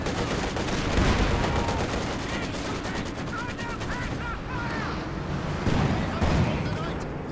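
A Vickers machine gun in Company of Heroes 2 chatters in sustained bursts amid a dense battlefield din of other weapons and blasts, with a commentator's voice running over it.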